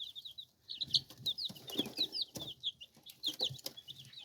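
Newly acquired chickens cluck and chirp softly at close range, with repeated short, high peeping calls mixed with low clucks and occasional light rustling, fairly quiet overall.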